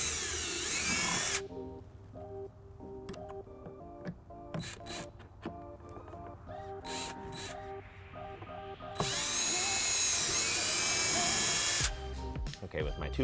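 A power drill whines loudly in two long bursts, drilling 13/64-inch holes in a car's fascia, with quieter tapping, handling noises and intermittent talk in between.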